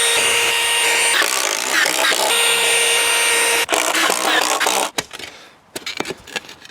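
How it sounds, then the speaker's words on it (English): A power tool drives screws into 4x4 wooden posts on a playhouse swing frame, with loud, close, sustained whirring and grinding that stops abruptly partway through, followed by scattered clunks and handling noises. "I'm gonna screw these 4x4s in and lock them in place."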